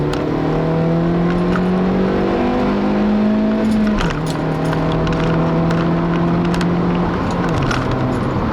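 A 2012 Honda Fit Sport with a manual gearbox pulls hard under acceleration, its engine note climbing steadily in pitch, dropping briefly at two gear changes, loud and close from inside the cabin with a faint jingling rattle.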